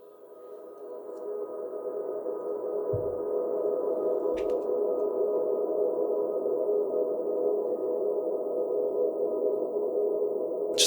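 A sustained, frozen reverb ambient sample drone, spectrally processed, swells in and then holds steady and smooth, with a couple of faint clicks along the way.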